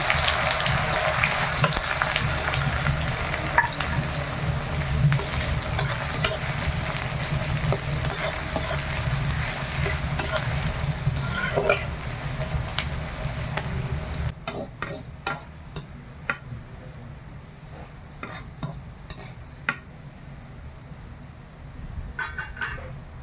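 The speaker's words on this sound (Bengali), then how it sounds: "তেলটা গরম হয়ে গেছে, আমি এবার বেরেস্তাটা ভেজে নেব।" Sliced onions fry in hot oil and ghee for beresta, with a steady bubbling sizzle and occasional stirring clicks from a utensil, sometimes under a voice.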